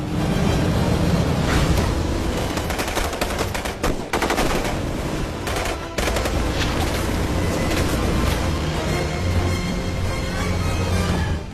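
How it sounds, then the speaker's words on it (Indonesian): Sustained, loud machine gun fire from the film The Expendables (2010), with rapid overlapping bursts and heavy booms, continuous throughout with no speech. "Tembakan brutal dari senapan mesin pun meluncur"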